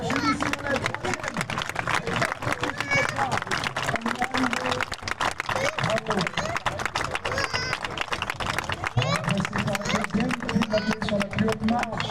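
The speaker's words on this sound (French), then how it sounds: "Sous vos applaudissements, s'il vous plaît." Audience applause at the CCI3*-L equestrian prize-giving in Saumur, steady dense clapping from a large outdoor crowd lasting throughout, with someone speaking over it on a public address.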